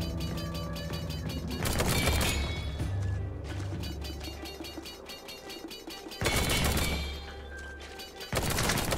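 Gunfire in the Samurai Jack: Battle Through Time video game, a series of loud crashing shot bursts over steady game music with ringing tones, the heaviest blasts landing near the start, the middle and the end.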